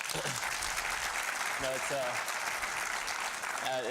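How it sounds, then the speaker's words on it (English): Steady audience applause fills a high school community meeting, a dense continuous clapping of many hands while a speaker's voice carries faintly underneath. "can we give Dr. Gentry a round of applause once again?"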